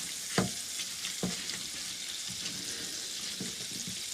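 Butter melting with fish in a frying pan, a low steady sizzle close by, broken by a couple of sharp clunks of the utensil or pan early on and a few softer knocks later.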